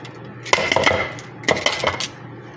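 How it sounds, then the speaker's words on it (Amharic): A spoon clinks and scrapes against a metal pot while macaroni with sauce is stirred, two quick bursts of clattering strokes close up, with no talking. "በደንብ ቀላቅየዋለሁ ከላይ እስከታች።"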